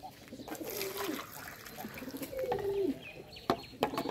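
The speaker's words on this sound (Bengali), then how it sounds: "তো আমি এখন আমার কবুতরগুলোকে পানি খেতে দেবো" Pigeons coo softly in repeated low, rolling calls while drinking water, with faint chirps and a light trickle of water in the background.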